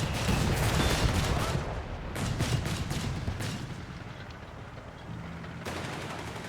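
A 6-pounder anti-tank gun fires in Company of Heroes 3 amid battle noise, with heavy booming shots and rumbling, crackling gunfire fading and rising over a few seconds.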